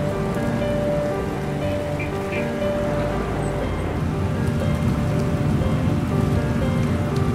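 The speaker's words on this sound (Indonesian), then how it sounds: "sedang turun hujan" Steady heavy rainfall in a train simulator game, pattering on surfaces, a constant dense hiss with faint low rumble underneath, no talking.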